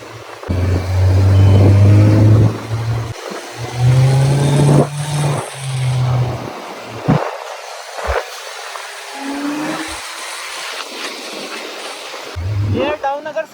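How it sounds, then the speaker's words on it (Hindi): A Kawasaki Z900 motorcycle on a valley road near Mussoorie revs hard, drops gears and snaps the throttle open again, loud close engine roars rising and falling in repeated bursts with quieter gaps. "वहीं पर मैंने गियर डाउन किया और एक क्षण के अंदर मैंने वापस थ्रॉटल की डोर खींच डाली"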